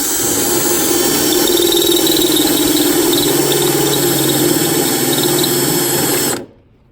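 A spot weld cutter bores steadily through the cowl sheet metal of a 1967–72 Chevy C10, a loud, continuous whining drill with a high metallic squeal. It runs for about six seconds, then stops abruptly.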